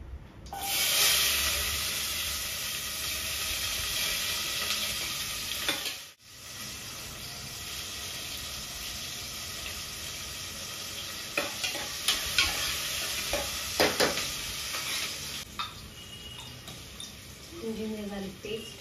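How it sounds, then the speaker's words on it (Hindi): Cumin seeds sizzling in hot oil in a home kitchen, a loud hissing crackle that starts abruptly, briefly cuts out, then resumes more steadily with occasional spoon taps and brief talk near the end. "सो जो हमारा तेल है वो गर्म हो गया है। वी आर एडिंग जीरा ऑफ कोर्स।"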